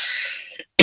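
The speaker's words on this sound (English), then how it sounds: "needed the cough" A single short cough lands abruptly at the end, loud and close, right after a trailing voice.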